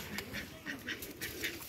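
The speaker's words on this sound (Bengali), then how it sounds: "আমাদের পাশের বাড়ির হাঁস" Neighbourhood ducks quack in a quick, regular series of short calls, faint and a little distant, with no talking.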